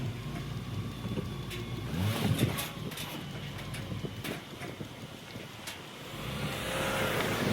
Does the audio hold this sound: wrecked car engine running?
yes